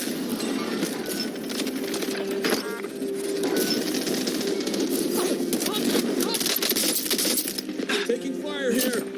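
Gunfire in Call of Duty Warzone Plunder mode: scattered and rapid shots, some near and some distant, mixed with game sounds and a voice calling out over the action.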